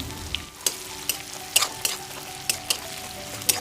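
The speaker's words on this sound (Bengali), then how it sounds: "জিরা আর শুকনো লঙ্কাটা এবার একটু ভেজে নিয়ে এর মধ্যে দিয়ে দেবো একটা বড় সাইজের পেঁয়াজ কুচানো" Cumin seeds and dried red chillies frying in hot mustard oil, a steady close sizzle broken by sharp crackles and pops at irregular moments, with no one speaking.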